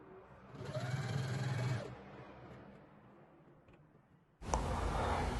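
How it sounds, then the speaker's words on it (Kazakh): A sewing machine stitching fabric strips together for a patchwork quilt, a close steady whir for about two seconds, then a quieter pause with faint handling before the machine starts up again loudly. "екі жақ басын бекітіп отырып тігіп шығамыз"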